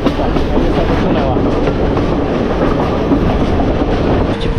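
A train runs on rails in a continuous loud rumble with rhythmic clickety-clack from the wheels, heard close up without pause for the whole stretch.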